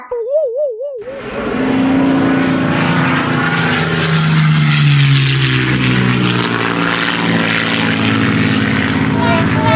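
A large propeller airplane drones loudly and continuously, its engine sound shifting in pitch as if passing or accelerating, after a brief warbling tone at the start.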